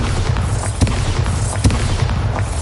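A Bombardo explosion spell in Hogwarts Legacy on PS5, heard as dense booming rumbles with a couple of heavy impact thuds, loud and close, with no talk.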